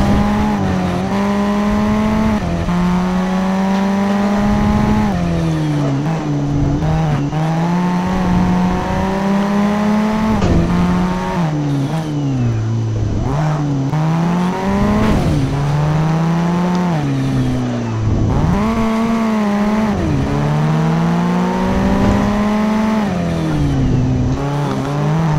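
Race cars in the video game Need for Speed Shift 2 Unleashed, running a normal race on a city circuit in slower cars: a loud, close engine drone that repeatedly revs up, shifts and drops in pitch, continuous throughout.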